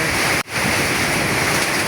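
Heavy storm in Dhaka with hail and strong wind, a dense steady roar of rain and gusts filling the air, briefly dipping once before surging back loud and continuous.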